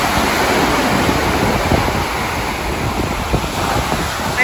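Ocean surf washing onto a beach on Martha's Vineyard, a steady loud roar of breaking waves mixed with wind buffeting the microphone, continuous throughout with no talking.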